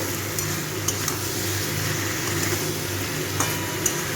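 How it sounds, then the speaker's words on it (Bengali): A spoon stirs ground coriander, cumin and sugar into mixed vegetables for a vegetarian curry in a pan, giving a constant close hiss of cooking with scattered light metallic clinks. "এই সব মশলাগুলো ভালো করে মিশিয়ে নেব।"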